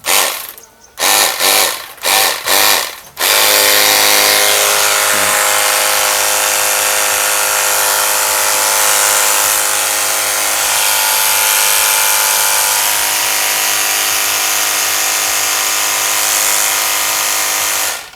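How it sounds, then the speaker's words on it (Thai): An OSUKA OCPW606 cordless high-pressure washer sputters in a few short bursts, then runs continuously with a loud, steady motor whine and a hissing water jet close by. "เดี๋ยวเรามาลองดู ระยะไกลของเครื่องฉีดน้ำตัวนี้นะครับ ว่าจะยิงได้ไกลขนาดไหนนะครับ"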